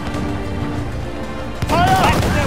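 Naval cannon fire in Assassin's Creed 4 booms out as a sharp blast over ongoing ship battle noise, with a shout heard over the din.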